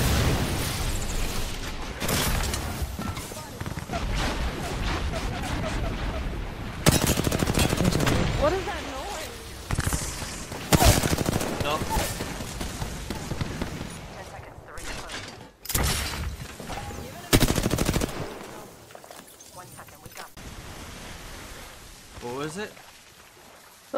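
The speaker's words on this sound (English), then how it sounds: "Can you hear the shots?" Gunfire in the shooter game Apex Legends, with bursts of rapid automatic shots and single cracks in loud clusters separated by quieter gaps, mixed with game effects and players talking.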